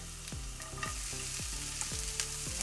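Onions frying in a hot pan while a pasta dish with tuna, olives and mozzarella is cooked, a steady loud sizzle close by with repeated sharp scraping stirs, no talking.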